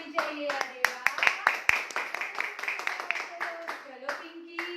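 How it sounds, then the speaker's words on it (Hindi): Young children clap their hands loudly and somewhat unevenly, with many overlapping claps in a busy burst while a voice carries on underneath. "हाँ, ऐसे जोर से ताली बजाओ।"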